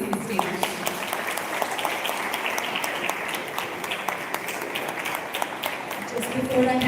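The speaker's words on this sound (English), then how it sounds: "Let us all welcome Ma'am with the warmest round of applause as she takes the stage." An audience applauds warmly as a woman takes the stage at a foundation event, dense steady clapping filling the room at a constant level, with a voice speaking faintly underneath near the end.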